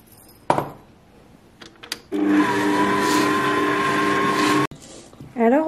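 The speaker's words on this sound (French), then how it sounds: "je vais lancer mon robot, mais à vitesse minimum" Kitchen stand mixer switched on at minimum speed to knead sweet dough with pearl sugar: a few clicks, then about two and a half seconds of steady motor whine and churning before it stops abruptly, followed by a brief voice.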